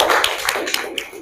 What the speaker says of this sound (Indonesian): Kita beri tepuk tangan untuk kelompok yang pertama.